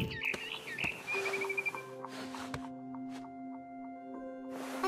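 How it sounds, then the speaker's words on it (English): Barn swallow chirping in the video game What Remains of Edith Finch, several short chirps early on, then quieter ambient tones with no talk. "Then I heard chirping outside my window. It was a barn swallow going back to her nest."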